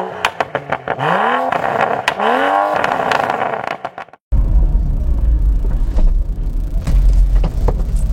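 A manual transmission car pulls away from a start, its engine revving up in pitch twice as it accelerates through the gears, loud and close, before giving way to steady rumbling road noise. No one speaks.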